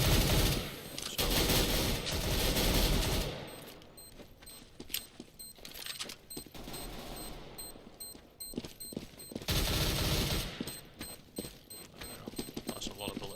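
Rapid bursts of gunfire in a first-person shooter game, loud and dense in stretches at the start and again near the end, with quieter mechanical clicks and game sounds between bursts.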